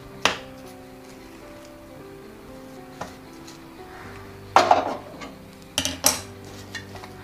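Paruppu poli lentil filling is scooped onto a plate to cool, with sharp metallic clinks of a spoon against the plate and a few softer scrapes and taps, close and sparse, with no voices.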